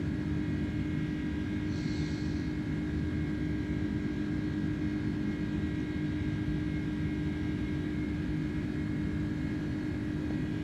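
An iniBuilds A310 airliner accelerates after takeoff in Microsoft Flight Simulator, flying from Faro to Madeira, a steady loud engine roar and drone holding constant throughout with no talk.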